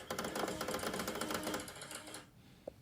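An Xbox console struggling and failing to grab a disc, giving a rapid mechanical chattering like a faulty printer that runs for about two seconds, stops, then gives one faint click.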